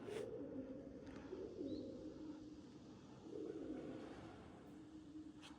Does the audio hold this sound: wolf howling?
no